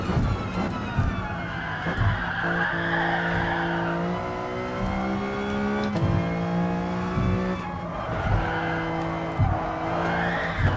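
A Mitsubishi Evo in Gran Turismo Sport at night, engine note rising and falling with squealing, skidding tires as the rear end steps out, loud and close with no talking.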